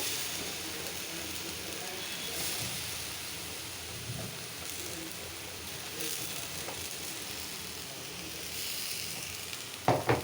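Eggplant frying in a pan without added oil, sizzling in a steady, close crackling hiss that fills the whole stretch, with faint stirring scrapes and a couple of sharper clatters near the end.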